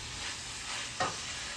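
Shredded cabbage sizzles steadily in a skillet with sausage and apple while a utensil stirs and scrapes through it, ending in one brief clatter, close and continuous with no voices.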